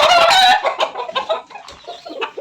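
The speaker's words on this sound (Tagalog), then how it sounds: "Isa po sa mga manok natin mailap." Several gamefowl chickens cluck and squawk close by, a dense burst of loud clucking at first, then quieter scattered clucks and calls continuing throughout.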